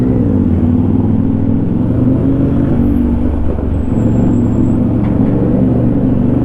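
Heavy road traffic heard from a big bike on a tour ride from Manila toward Baguio and La Union, a loud, constant low rumble of engines and tires with no voices.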